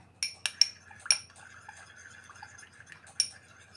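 A container holding a honey and milk face remedy mixture is shaken, giving a few sharp clinks and rattles at irregular intervals, faint and close in a quiet room.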